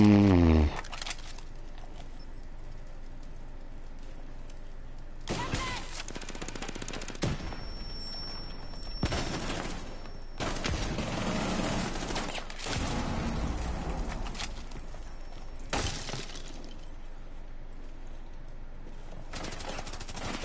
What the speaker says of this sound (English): Just pull out the crappy SMG 11 that I can't control the recoil with.